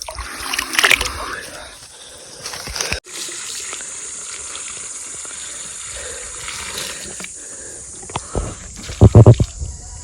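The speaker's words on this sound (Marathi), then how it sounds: "हे बघा पाणी." Water trickles and splashes during a dry May in the Konkan countryside, running steadily with intermittent louder splashes and gurgles near the end while people talk nearby.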